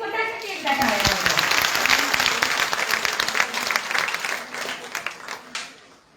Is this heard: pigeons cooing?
no